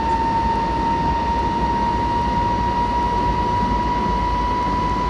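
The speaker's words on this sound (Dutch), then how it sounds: "Want die trein trekt namelijk knetersnel op." BR 146 electric locomotive accelerating in Train Simulator 2017, a loud steady cab rumble with a constant high whine running throughout, no talk.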